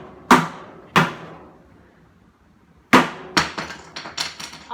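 A hammer strikes a metal water heater tank, swung one-handed: two sharp, loud metallic bangs about a second apart, a pause, then a quicker run of several ringing hits, each clang decaying briefly.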